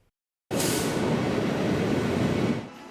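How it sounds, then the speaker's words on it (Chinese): Hello Kitty themed round-island tourist train in Taiwan, rumbling past as a sudden loud broadband roar after brief silence, holding steady for about two seconds before dropping off, with no talking. "缤纷的环岛观光列车"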